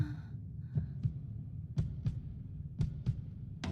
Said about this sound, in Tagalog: Lakas ng kabog ng dibdib ko.